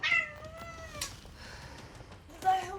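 A cat meows twice, a drawn-out cry at the start and a shorter one near the end, faint over quiet room sound.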